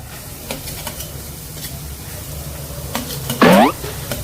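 Carrots are spooned into a pan of vegetables frying in oil, giving a brief loud burst of sizzling hiss near the end, with a few light clinks of the spoon against the pan beforehand over a steady low background.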